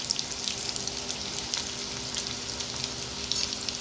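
Prawn lollipops frying in oil in a pan on a low gas flame, a steady soft sizzle with small crackles and pops, close and even throughout, no talking.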